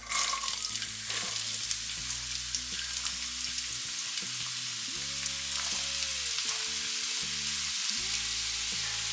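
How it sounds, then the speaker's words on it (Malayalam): Three finely chopped onions fry in a generous amount of coconut oil for a mutton dry dish, giving a steady, close hiss of sizzling over a background of low tonal sounds. "കുറച്ചധികം വെളിച്ചെണ്ണയിലാണ് നമ്മൾ സവാള റോസ്റ്റ് ചെയ്തെടുക്കുന്നത്"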